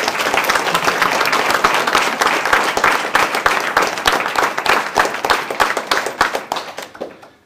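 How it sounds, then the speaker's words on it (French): Steady, dense applause from an indoor audience at a town medal ceremony in Caudry honoring an elderly former association president, sustained clapping near and loud before fading out at the end. "Je pense qu'on peut l'applaudir déjà pour ça."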